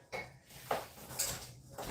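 A frying pan is handled quietly, with a few soft metallic clanks and scrapes spread over a couple of seconds.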